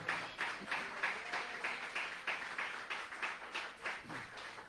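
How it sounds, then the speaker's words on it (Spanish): A church congregation applauds, quiet and somewhat distant, with clapping that pulses in loose, repeated swells rather than a continuous roar. "¿Cuántos pueden darle un fuerte aplauso al Señor?"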